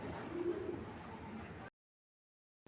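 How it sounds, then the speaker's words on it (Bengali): Iranian racer pigeons coo close by in a soft, low, rolling murmur that lasts under two seconds before sudden silence. "এটা হলে ইরানি রেসার কবুতর বা ইরানি হুমা কবুতর"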